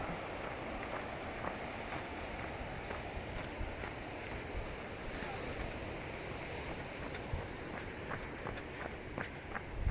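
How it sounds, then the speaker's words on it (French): Steady rushing surf with broad noisy wash throughout, waves breaking continuously on shore at moderate distance at Camaret-sur-Mer, France, with faint scattered clicks and wind over it. "Le bruit des vagues."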